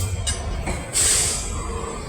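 A Bangladesh Railway train passing, a steady rumble of wheels with a few rhythmic clacks and a short high metallic squeal midway, fairly close and with no speech.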